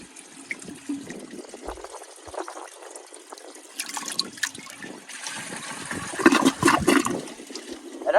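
A 1983 Kohler Wellworth toilet with a Water Guard flush system is pushed through a struggling flush, giving close, steady watery rushing and gurgling that swells louder toward the end, with drips and splashes throughout.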